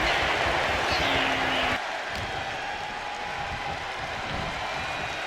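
Crowd noise from a WWE 2K25 wrestling match at Money In The Bank, with LA Knight rallying fans: a broad, dense roar of cheering and applause that drops in level partway through and continues steadily.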